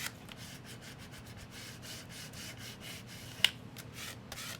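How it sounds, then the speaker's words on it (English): A gift card is rubbed over paper to smooth it onto a mini journal cover, making faint, repeated scraping strokes at close range with one sharper tick partway through. "Just using my credit card, just smoothing that on there."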